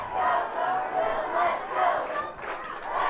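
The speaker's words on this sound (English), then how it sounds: "Bear crowd getting into it now here as we're late in the fourth quarter" A home crowd at a high school junior varsity football game yells and cheers late in the fourth quarter, in rising and falling waves of voices heard from the broadcast booth.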